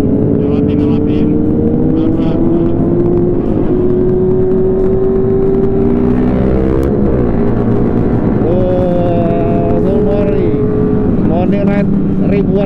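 Motorcycle engines drone and rev in a dense, loud convoy on the road during an Independence Day ride, with steady engine noise and passing pitch sweeps throughout.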